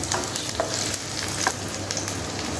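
Chopped green chilli and garlic fry together in a pan for white sauce pasta, giving an even, moderate sizzle dotted with soft clicks and the odd stirring scrape.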